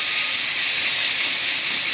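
Ripe tomatoes sautéing in a hot pan, producing a loud, steady, close hiss with no break and no voices.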